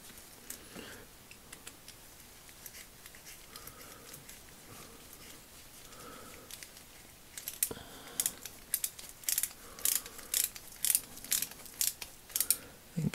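A bolt is tightened on a flex ratchet with quiet handling at first, then a run of sharp, close ratchet clicks in quick bursts that grows louder toward the end.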